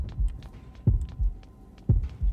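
A heartbeat warning from the horror game Horrorfield throbs as deep, muffled thumps in lub-dub pairs about once a second, with a faint hum underneath and no talking.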